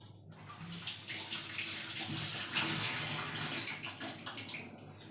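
Tap water runs steadily over green chilies and coriander leaves being rinsed in a sink, a close continuous splashing stream lasting a few seconds with slight changes as the herbs move under it.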